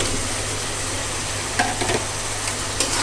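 Fried potatoes are added to a cooked-down masala and stirred, a steady low sizzle broken by a few soft scraping clinks of the spoon against the pan.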